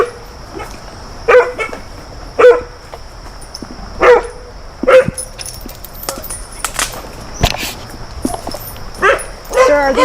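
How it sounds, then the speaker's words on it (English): Dogs on a heavy chain bark in loud, close bursts spaced every second or so, with thin high whimpers and yips between them. "Sir, are these your dogs?"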